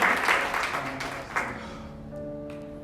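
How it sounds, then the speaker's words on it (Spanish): A church congregation claps during an afternoon service, the dense applause strongest at first and then fading out, with a few sharp claps toward the end. "Denle un aplauso al Rey en esta tarde"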